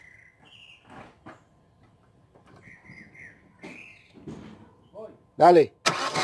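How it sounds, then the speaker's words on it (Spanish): Chevrolet Aveo with no spark, cranking without starting: after scattered speech and quiet shop noises, two loud bursts of starter cranking arrive near the end, close and harsh. "dale arranque."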